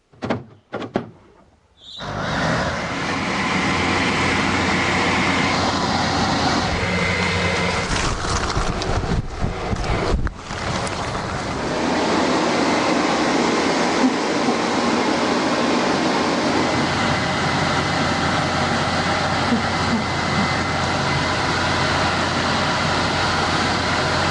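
A leaf blower in blow mode sends a steady, loud roar of air across leaves in a Portuguese yard. A few sharp clicks come first, then the blast holds continuous and near for most of the clip, with a brief dip midway.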